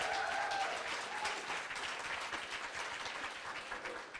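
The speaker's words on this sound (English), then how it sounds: "Big round of applause." An audience at a debate breaks into applause, a dense, steady wash of many hands clapping at once that carries on for the whole stretch without letting up.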